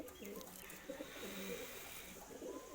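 A female Madras pigeon in a loft in Dankuni, Kolkata, gives soft, low cooing calls, faint and set against a quiet background hiss.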